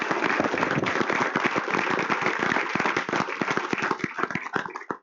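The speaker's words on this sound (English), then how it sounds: "So let's give a round of applause to Cordova High School staff" A room of attendees at a school district board meeting applauds the Cordova High School staff, steady mixed clapping close and loud that gradually thins out at the end.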